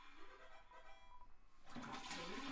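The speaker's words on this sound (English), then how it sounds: "There's gonna be 8 minutes of fucking toilet flushing." A toilet flushes in the video game Deltarune, a rushing swirl of water building and then surging louder at the end, close and steady with no talk over it.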